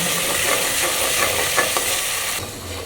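Masala lightly roasting in a pan crackles and sizzles steadily under a stirring spoon, then the sizzle drops away abruptly near the end, close and with no talk.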